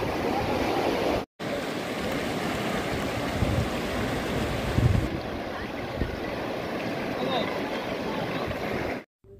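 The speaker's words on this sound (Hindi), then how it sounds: "ठंडी हवा के झोंके और पानी की कलकल करती हुई यह आवाज़ वाकई में मन मोह" Steady rushing river water and gusting cold wind in Yumthang Valley, Sikkim, a continuous loud wash with wind buffeting the microphone and brief dropouts.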